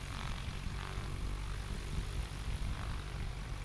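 STOL airplane at a short-takeoff competition in Gallatin, Tennessee, its propeller engine droning loud and steady as it throttles up for takeoff, with broad roaring noise throughout.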